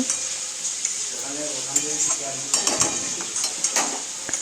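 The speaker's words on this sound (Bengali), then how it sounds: "এরপর দিয়ে দেবো আমি টমেটোটা টমেটো দিয়ে একটু জল উঠবে সেই জন্য একটু ভালো করে আমি নাড়াচাড়া করে নেব" Tomato being stirred into a drumstick curry in a pan, a soft sizzle under repeated clinks and scrapes of a spatula against metal, close and uneven in rhythm, with no talking.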